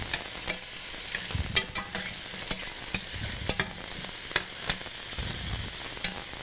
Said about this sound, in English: These mushrooms are looking beautifully. Let me take this and stir it up for a moment.